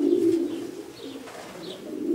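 Soft, low cooing of breeding pigeons, a steady throaty murmur swelling and fading over a couple of seconds, with faint chirps above.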